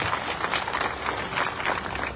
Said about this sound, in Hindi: तालियां बजाओ इनके लिए एक बार